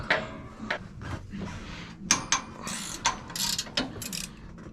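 Metallic ratcheting and clanking from a wrench loosening the kickback mounting plate on a Brunswick bowling pinsetter, near the pit conveyor and elevator frame. Close, irregular bursts of clicks and knocks, with no talk.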